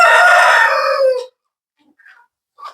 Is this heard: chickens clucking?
yes